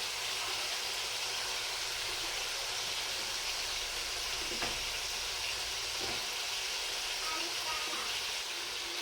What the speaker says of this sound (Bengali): মাছগুলো দিয়ে দিচ্ছি।